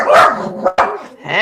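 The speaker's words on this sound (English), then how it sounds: "I have my mother's dog and she barks a lot." A dog barks close and loud in a few sharp, harsh bursts indoors.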